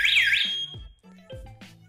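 An Ajax wireless alarm system sounds a loud warbling siren when a door is moved. The siren sweeps up and down for about half a second and then cuts off, followed by a few thumps and clatter nearby.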